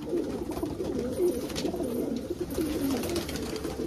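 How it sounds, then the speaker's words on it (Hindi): Several border-breed pigeons keep up a continuous low cooing, overlapping rolling calls heard close by with no talking. "बॉर्डर वाला कबूतर है ये भी, बेहतरीन क्वालिटी का कबूतर है दोस्तों"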